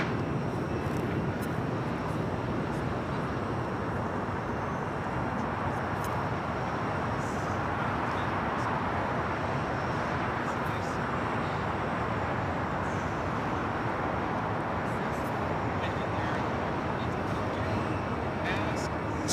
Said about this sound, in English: Eva in the Star Alliance livery, Flight 5 heading back to Taipei, is the next takeoff on the north side.